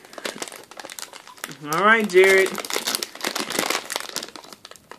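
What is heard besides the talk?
crinkling packaging of baby biscuits being opened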